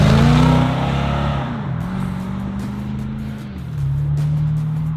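A 1969 Chevrolet Camaro SS Pro-Touring restomod with an LS3 V8 idling loud and close, a deep, steady engine rumble that dips and rises in pitch, with a brief rev near the start.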